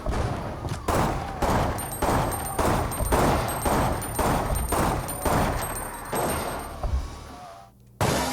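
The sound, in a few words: gun firing without reloading in Resident Evil Outbreak video game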